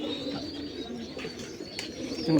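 Low pigeon coos murmur continuously at close range inside a pigeon house, with faint rustling and a soft flutter of wings in the background.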